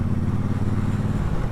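A Triumph motorcycle cruises along in third gear, its exhaust a steady, deep rumbling drone at moderate volume, continuous and unbroken with no voices.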